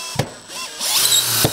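A Makita cordless hammer drill spins up at speed two after a short click, whirring steadily and loudly for about a second before cutting off with a final knock.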